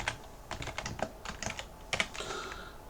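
Rapid, irregular clacking of keys on a computer keyboard, close and fairly loud, in quick bursts with short pauses.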